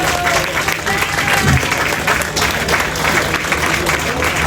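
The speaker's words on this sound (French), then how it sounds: "Oui, on peut l'applaudir, il est là-bas." Crowd applauding a sculptor at a giants festival in Flobecq, a burst of dense clapping with a voice speaking over it.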